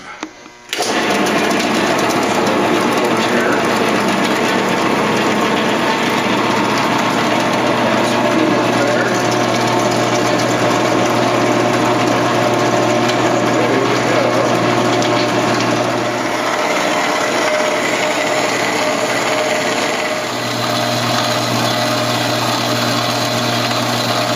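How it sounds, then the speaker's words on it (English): A power drill bores holes in wood, whirring steadily and loudly for a long stretch, a continuous mechanical drone with slight shifts in pitch. "I'll go ahead and drill all my holes first"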